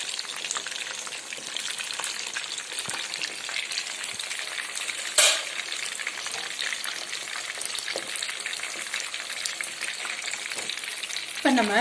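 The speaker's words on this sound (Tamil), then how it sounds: "கொஞ்சம் கொஞ்சமாக தான் போட்டு பொரிக்கணும்" Korean-style chicken pieces deep fry in hot oil with a continuous crackling sizzle that holds steady throughout, broken by one brief clatter midway and a stirring scrape near the end.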